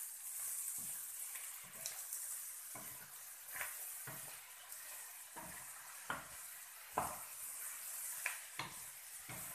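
Bottle gourd with two green chilies sautéing in a pan, a steady close sizzle broken by repeated scraping stirs and occasional light clinks of the utensil against the pan.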